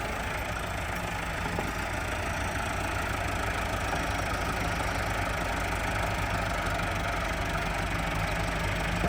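Massey Ferguson 385 tractors, stuck in the field and hitched together to pull, run at a steady idle with a loud, continuous rumble and no talking.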